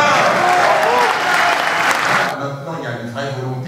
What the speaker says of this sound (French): applaudissez-le encore.